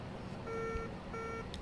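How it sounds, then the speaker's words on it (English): Two short electronic beeps from a gear down alarm sound in a Citation X flight simulator cockpit, quiet and evenly spaced over a steady hum of engine and cabin noise. "that's actually a gear alarm"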